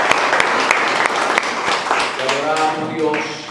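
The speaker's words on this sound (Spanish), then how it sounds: "démosle un aplauso al Señor" Church congregation claps during a sermon, a steady, fairly close round of many hands with sharp individual claps, while a voice and murmuring talk rise over the clapping in the second half.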